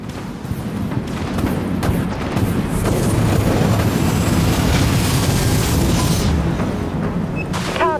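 A torpedo launch from a warship in Dreadnought gives off a deep, booming roar that rumbles steadily for several seconds, loud and close, with no talking.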